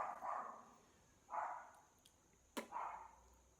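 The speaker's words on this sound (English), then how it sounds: "Always when I'm filming, they bark." Dogs bark at a distance indoors, three faint separate barks spaced a second or so apart with a brief sharp tap between them.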